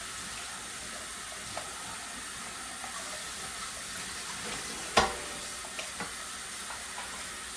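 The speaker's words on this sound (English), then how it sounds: "So get it rinsed out real well." A KitchenAid grater attachment is rinsed under a running kitchen tap, a steady hiss of flowing water with a sharp knock from handling midway.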